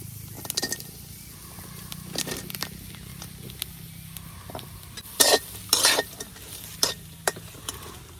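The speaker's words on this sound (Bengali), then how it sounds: "এখন রসুন আর পেঁয়াজটা ভাজা নিলাম।" Garlic and onion fry in a dry pan with no oil while a utensil stirs and scrapes against the metal, giving a faint steady sizzle broken by sharp clicks and louder scraping bursts.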